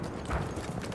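Horse hooves clip-clopping in the first-person shooter Battlefield 1, a brief run of soft hoofbeats with one heavier thud, close and moderate in level, no speech.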